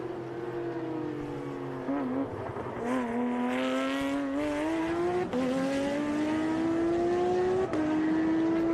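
Trans Am race cars at Austin roar past at racing speed, their engine notes climbing steadily through the gears with sharp shift breaks, loud and continuous throughout.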